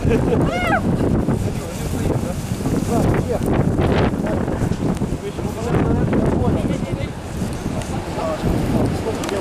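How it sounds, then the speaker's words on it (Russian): Gusty winter wind during heavy snowdrifts buffeting the microphone with a rough roar, while people talk nearby and water sloshes faintly in the background. "Здесь маленький ветер"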